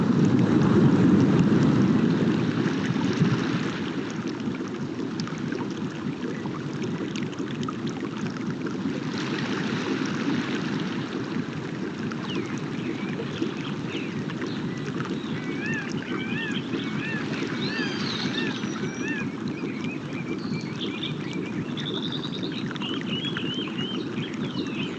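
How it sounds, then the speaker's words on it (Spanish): The sea washes steadily in a calm, near-silent seaside setting, a broad continuous rush of water and wind with a louder swell at the start and faint high chirps drifting in later. "solo escuchamos el sonido del mar"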